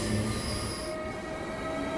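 Danish commuter train running on rails, a steady close rumble with high wheel squeal that fades after about a second, no voices.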